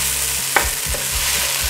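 Chili powder and garam masala are stirred into a sautéed mixture for dal khichdi, a short burst of a spoon scraping through a gently sizzling pan with one sharp knock against the side.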